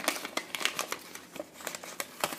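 Origami paper is folded and creased by hand into a slim box, producing close, crisp crinkles and soft papery snaps in irregular bursts.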